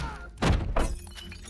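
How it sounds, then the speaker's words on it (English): Glass shatters in a violent scene of the 2014 western The Salvation, with two sharp crashing bursts close together against a quiet backdrop. "We hear his scream and glass break."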